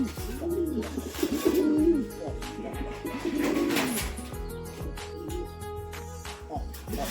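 Large Bengali pigeons from Gopalganj coo in repeated rounded, throaty phrases, several birds overlapping close by, with steady low murmuring throughout.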